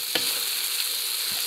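Cubes of pork leg sear in a hot paella pan, giving a steady close sizzle with a couple of brief stirring scrapes over the short moment.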